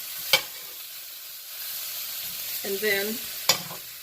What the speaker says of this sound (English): Just stir it around and coat it.